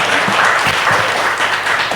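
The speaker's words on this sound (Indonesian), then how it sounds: "sekali lagi tepuk tangan yang meriah untuk Ci Trivena" An audience applauds Trivena (Trifena Nowi) at a seminar-style gathering, with steady dense clapping filling the whole stretch at a fairly loud, even level.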